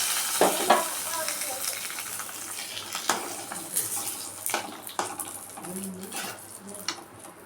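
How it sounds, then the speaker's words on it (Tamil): A tempering of dried red chilies, mustard seeds and curry leaves crackles and sizzles in hot oil for a cucumber curd pachadi, with close spattering pops and bursts repeating over a continuous frying hiss. "தாளிப்பு காஞ்ச மிளகா போட்டு கடுகு போட்டு கருவேப்பிலை போட்டு தாளிச்சு"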